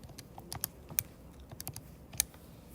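Quick light keypresses on a calculator or keyboard as numbers are entered, a short irregular run of crisp clicks, close and fairly quiet with no talking.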